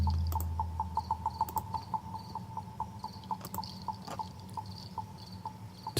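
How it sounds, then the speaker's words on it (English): Crickets chirp in an ambience track, a steady rapid repeating chirp with brighter higher trills layered over a low hum, continuous and moderately loud with no talking. "I know some of y'all don't like the crickets."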